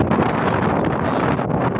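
Strong wind blows across a crop field in summer, buffeting the microphone in a loud, continuous, rough rush with gusty swells.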